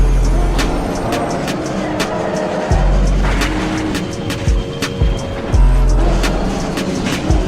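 A race car engine in the Le Mans Ultimate racing game, its throttle stuck open, drones loud and close with a steady low roar, dipping briefly a few times before surging back.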